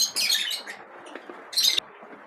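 Lovebirds with chicks in a cage give bursts of shrill, high chirping and twittering close by, with a short pause between two loud flurries.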